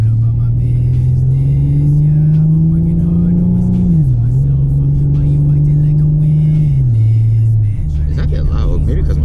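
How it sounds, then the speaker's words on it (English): A Ford Mustang engine with a suspected exhaust leak drones steadily while driving, its low pitch rising and dipping with throttle changes, loud and continuous throughout. "It sounds like an exhaust leak."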